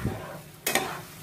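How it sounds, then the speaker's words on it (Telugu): A curry base fries in a pan for a village-style spicy mushroom curry, giving a soft hiss with a brief louder stirring scrape midway, short and fairly quiet. "ఇలా పచ్చివాసన పోయేదాకా బాగా వేయించుకుందాం"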